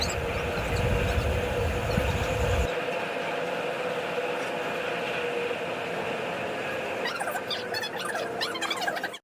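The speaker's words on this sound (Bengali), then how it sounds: "আর এটা হচ্ছে একটা মেট্রো রেলের ভেতরের দৃশ্য।" A running Kolkata Metro train carries a heavy low rumble that eases after a few seconds into a steady rattle and hum with high metallic squeals, heard from inside the carriage.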